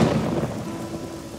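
A terrible thunderstorm with pouring rain: a dense, steady wash of heavy rainfall mixed with low rumbling thunder, loud and continuous, with no voices.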